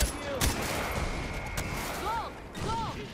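Gunfire crackles through a Far Cry 4 firefight, with scattered shots and bursts over constant battle noise and whistling tones, while voices talk over the action.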